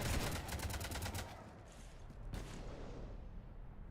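Rapid gunfire rakes a ship in a sci-fi video game, a loud dense burst of shots at the start that thins into a sustained rumbling barrage with a few sharp reports, no talking.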